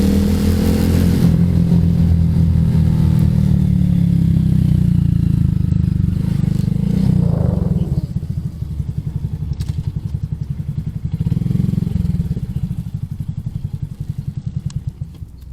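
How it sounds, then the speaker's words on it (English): Motorcycle engines running close by on the road, a loud throbbing rumble that swells and revs, then settles into a pulsing idle-like chug with clattering underneath. "Motorcycle buddies."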